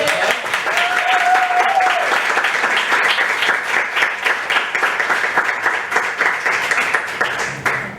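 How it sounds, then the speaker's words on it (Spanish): Steady, loud audience applause for a speaker at an academic theatre conference, a dense wash of clapping that runs throughout and thins slightly toward the end. "por favor un aplauso para ella"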